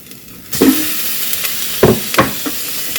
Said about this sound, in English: so I'm going to go ahead and add my hamburger